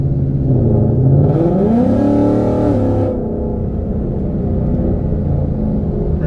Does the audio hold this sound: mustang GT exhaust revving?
yes